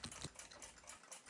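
Quick run of small metallic clicks as the mainsprings of a Junghans mantle clock are let down, a close, faint, rapid ticking ratchet over barely a second.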